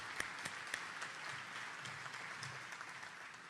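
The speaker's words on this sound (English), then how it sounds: "my friend, Ambassador Ellen Sauerbrey, who deserves a big round of applause." An audience at a state of business address applauds steadily, a dense even wash of clapping throughout with a few sharper individual claps near the start.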